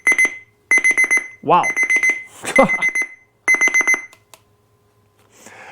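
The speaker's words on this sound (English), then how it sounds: "set the alarm for 10:12 a.m., so we're gonna see what it does." A loud electronic alarm on an XG-098 NOAA weather alert radio beeps in rapid repeated bursts, pausing briefly while someone exclaims, then the beeping pattern resumes close by.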